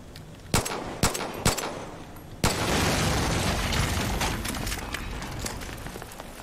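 Gunfire in the Far Cry 5 shooter game: three sharp, loud shots spaced about half a second apart, then a heavier blast that opens into a sustained roar of continuous firing and rumble.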